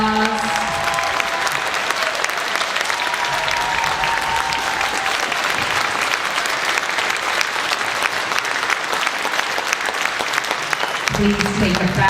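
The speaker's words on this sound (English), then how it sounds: "Let's give them all a big round of applause." An audience applauds the performers at a memorial concert, a dense, steady clapping that continues for about twelve seconds, with a voice speaking briefly at the start and end.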